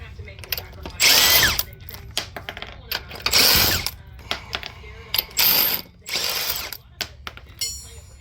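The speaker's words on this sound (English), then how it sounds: "we'll pull the wheel off with an impact" An impact wrench pulls the wheel off a 1999–2002 Chevrolet Silverado 1500 2WD on a jack stand, firing in several short, loud rattling bursts separated by pauses, with small clanks in between.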